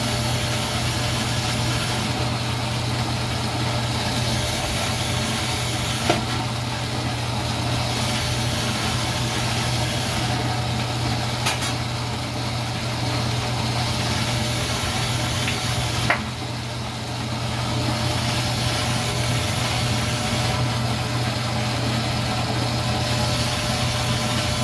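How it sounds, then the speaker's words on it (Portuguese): A dough sheeter machine runs steadily as bread dough made from three ingredients plus water is passed through its rollers again and again, giving a constant mechanical motor hum with a few faint clicks and no talking. "cilindro para deixar essa massa bem elástica"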